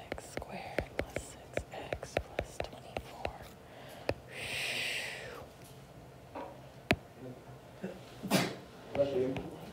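A sneeze in a classroom during a math lesson, one short burst partway through amid whispering and scattered small noises from students.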